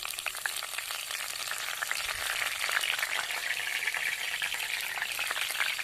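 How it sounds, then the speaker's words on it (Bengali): Bottle gourd leaves spread one by one in hot oil for fish paturi give off a loud, steady crackling sizzle that continues evenly throughout, with no talking. "তেলটা গরম হয়ে গেছে, এবার আমি এই লাউ পাতাগুলো একটা একটা করে বিছিয়ে দেবো ওই তেলের উপরে।"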